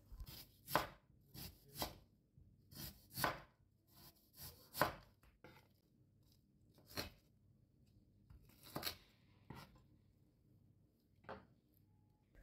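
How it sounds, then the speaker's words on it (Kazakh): A knife chops onion finely into small cubes on a board, giving crisp, irregular taps in quick clusters separated by pauses, close and quiet with no talking. "Пиязды төртбұрыштап, ұсақтап тураймыз."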